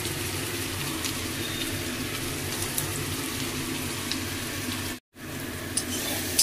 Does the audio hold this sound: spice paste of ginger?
yes